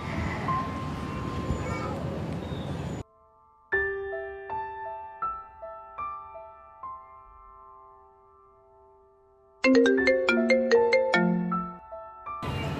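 A phone ringtone plays a melodic sequence of electronic tones, pauses, then rings again more busily; a voice is heard briefly at the start.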